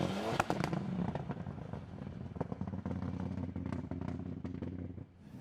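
A Mitsubishi rally car with a broken rear differential on a tarmac stage in Cork, Ireland, pops, cracks and bangs loudly and unevenly as it runs close by, with rattling clatter throughout.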